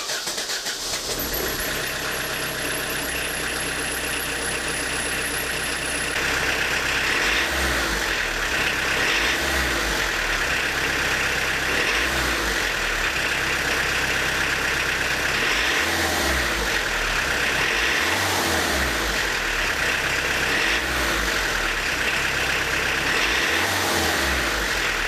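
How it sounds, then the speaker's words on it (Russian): A diesel engine runs steadily after its injection-pump timing is reset, a loud continuous mid-pitched drone with low pulses swelling every few seconds, no voices. "Как-то и мотор как-то ровнее стал работать."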